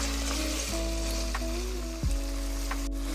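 Ground beef browns in a pan with a steady sizzle, layered over a steady low hum and tonal drones. A brief knock or scrape sounds near the two-second mark.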